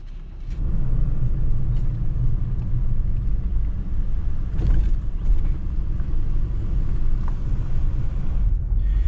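A 2020 Jeep Gladiator Rubicon engine drones steadily at close range, a deep continuous rumble with small surges as it drives over sand.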